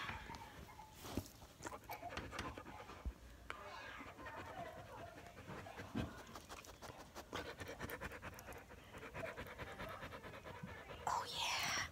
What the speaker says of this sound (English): Listen to her pant.